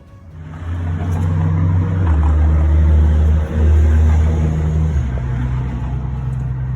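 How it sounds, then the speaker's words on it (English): A 1975 Ford E100 van engine cranks over and runs with a loud, steady low rumble that rises and shifts pitch slightly as it goes, heard up close. "let's get her cranking over and see if we can get some gas through."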